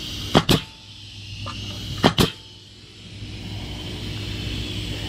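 A Bostitch framing nailer is fired into wood with no nail loaded, giving two sharp double-cracks about two seconds apart in a quiet shop with a low background hum.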